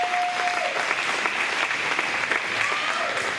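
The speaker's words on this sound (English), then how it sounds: "Give a round of applause for Noah" Audience at a county fair queen contest applauding an emcee, a continuous, even burst of many hands clapping at moderate loudness, with a faint tone briefly audible behind it.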